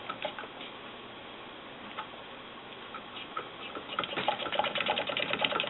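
A Willcox & Gibbs sewing machine stitches quilt pieces with a steady, quiet, rapid ticking rhythm that continues throughout and grows a little busier and louder near the end.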